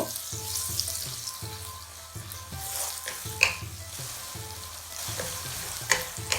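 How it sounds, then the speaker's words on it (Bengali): Garlic and ginger frying in a pan with chopped onion for a Bangladeshi shrimp roast, a loud continuous sizzle broken by regular scraping stirs of a spoon, close up with no talk. "এক টেবিল চামচ রসুন এক টেবিল চামচ আদা দিয়ে ভালো করে ফ্রাই করব"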